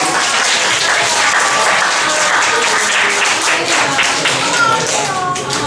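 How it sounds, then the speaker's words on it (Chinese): An audience at a spiritual gathering claps together in a loud, dense, sustained round of applause lasting several seconds, with a few voices mixed faintly underneath. "大家掌声鼓励"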